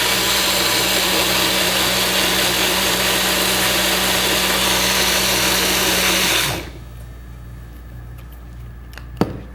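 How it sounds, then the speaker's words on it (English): A kitchen blender whirs loudly and steadily while blending salad dressing ingredients, a constant motor drone that cuts off abruptly after about six seconds and leaves quiet room tone, broken later by a soft clunk. "We've got all those ingredients in the blender. I'm going to turn it on, put the lid on, and give it a whirl."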